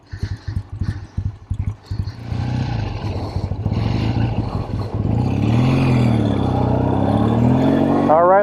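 A 1964 Triumph T100 motorcycle, nicknamed the Duster, sputters with a few separate idle blips before its engine revs up and holds a loud, steady drone that climbs higher toward the end.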